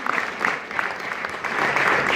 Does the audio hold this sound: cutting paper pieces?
no